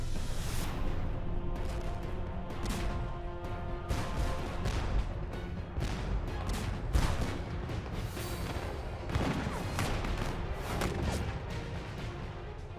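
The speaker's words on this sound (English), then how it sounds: "At 1 p.m., Lee opens the greatest artillery barrage ever heard in the Western Hemisphere, before or since." Confederate artillery barrage at Gettysburg, a dense, continuous roll of cannon fire with repeated heavy booms and crashes layered over a sustained rumbling din, loud throughout with no voices.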